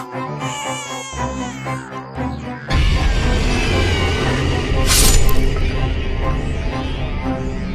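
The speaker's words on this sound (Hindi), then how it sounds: "बच्चों के रोने की आवाज" Children wail in a Hindi horror scene near a witch's nest, loud sustained crying that swells over a dense eerie music bed.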